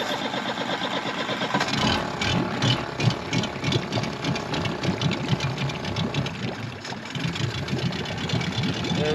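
A 1993 Duckworth 24-foot Magnum boat's outboard engine, likely winterized and smoking, runs with a rough, knocking, uneven idle after starting, loud and close throughout.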